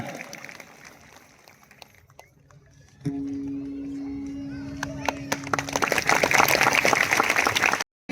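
An audience breaks into loud, sustained applause at a Shrimad Bhagavat katha gathering in Kirvali, swelling in the last few seconds after a stretch of talk and a held tone.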